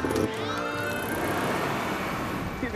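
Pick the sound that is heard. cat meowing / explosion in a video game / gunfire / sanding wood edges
cat meowing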